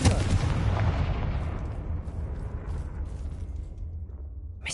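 A fiery blast spell in Hogwarts Legacy goes off with a heavy, booming explosion that rolls into a long, crackling rumble and slowly fades.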